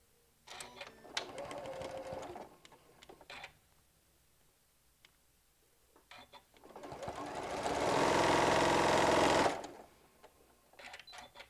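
Sewing machine stitching a quilt block for a hummingbird panel, in two runs: a short burst of stitching early, then a longer, louder steady whir near the end.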